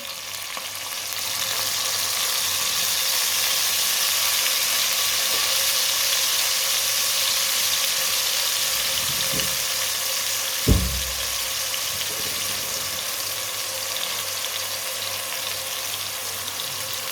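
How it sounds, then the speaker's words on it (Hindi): Lightly browned onions with finely chopped green garlic sizzle steadily in a pan for an aloo gobhi dish, a constant close frying hiss with a single utensil clink partway through. "बारीक कटा हुआ सब्ज लहसुन डाल लेंगे"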